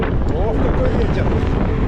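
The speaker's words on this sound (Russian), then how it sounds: "Ох, какой ветер." A strong gusting side wind buffets the microphone with a loud, continuous rumble while riding along the Crimean coast.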